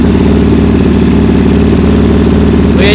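A Ural Volk motorcycle engine fitted with Chinese carburetors idles steadily and loudly up close, a continuous low throbbing with a faint brief noise at the very end.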